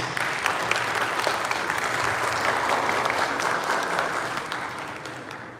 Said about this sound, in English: A big round of applause to our panelists, please